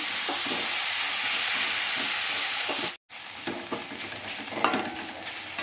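Onions and green chillies fry and are stirred in a hot pan, a steady broadband sizzle with scraping stirs, briefly cut off near the middle before resuming with clattery spoon hits.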